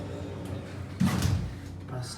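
Lift doors at the Florida Mall slide shut with a short rumbling thud near the middle, heard up close against a steady background hum.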